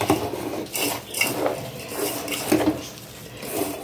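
Rhythmic scraping and clinking of a utensil against a bowl, repeating steadily as varki vadai ingredients and salt are stirred together close up, fairly quiet.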